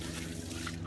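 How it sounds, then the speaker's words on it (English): Fresh, ice-cold mountain water spills steadily from a local outdoor tap on a Himalayan trek, a continuous close trickle and splash with no talk. "So this is the local tap, fresh water from the mountain."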